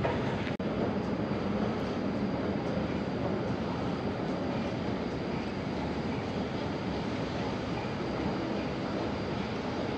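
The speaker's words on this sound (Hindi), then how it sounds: "ये भाई जद्दा का हरमैन ट्रेन स्टेशन है" Inside the Haramain high-speed train station in Jeddah, a steady loud rumble and roar of rail traffic fills the space without a break, with one brief thump near the start.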